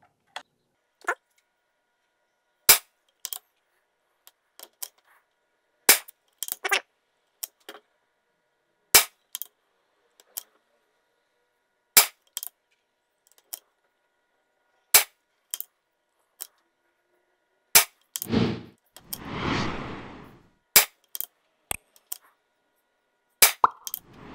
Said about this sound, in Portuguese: Foram 10 disparos.